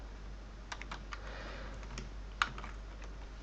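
Quiet, irregular typing on a computer keyboard, a scattering of light key clicks with one sharper tap, heard close up against a faint steady background hum.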